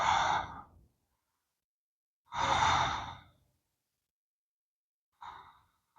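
Slow, deep breaths held through a yoga bridge pose for hip and low back work, two long airy exhales and a shorter third, close and soft with quiet pauses between.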